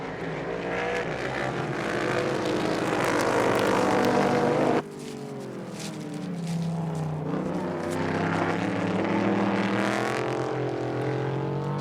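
Vintage SVRA Group 6 race cars, including a Boss 302 Mustang, racing at Indianapolis, with loud engines roaring and shifting pitch as cars pass close by, one fading sharply before another pack comes through.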